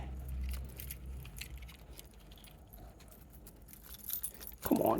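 Car keys jangle in a quiet outdoor spot, a light metallic rattle that rises near the end in a brief, close burst after soft scattered shuffling.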